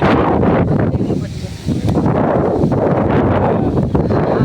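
Steady wind blows hard and close, a constant broadband rush with gusty fluctuations throughout.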